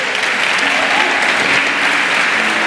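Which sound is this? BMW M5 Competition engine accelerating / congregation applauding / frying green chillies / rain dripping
congregation applauding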